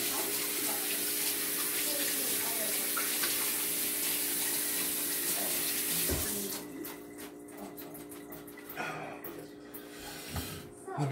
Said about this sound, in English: Now I'm going to rinse my hands one more time.